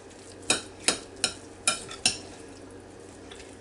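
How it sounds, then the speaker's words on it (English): Five evenly spaced, crisp scraping strokes of a spoon work through a tuna filling for crescent rolls, close by, each with a clicking edge. Quiet room tone follows. "Mix it in."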